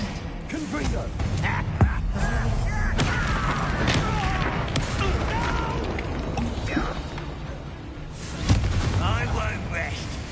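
A Confringo blasting spell in the video game Hogwarts Legacy, with booming explosive impacts over a dense battle soundscape and game voices, including a sharp hit early on and another heavy blast later.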